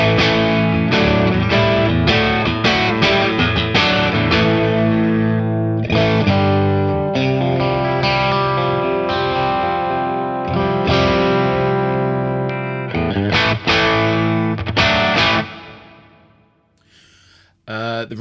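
A Stratocaster electric guitar plays through a Mimicraft clone pedal at low gain, with strummed chords and single notes ringing out under added reverb, then fading toward the end.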